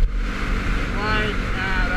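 A Yamaha WR250X motorcycle cruising on a freeway in fourth gear, with a loud steady engine drone and rushing wind throughout.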